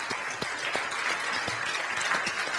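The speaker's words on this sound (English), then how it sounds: "If we can give Don just a quick round of applause here in our audience." An audience gives a quick round of applause, steady dense clapping from many hands with a few sharper individual claps standing out, continuing for a couple of seconds without any voices.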